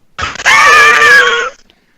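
A man lets out a loud, sustained scream right into someone's ear during a tabletop game, mimicking a psychic scream; one strained, rasping burst of about a second follows a brief noisy lead-in.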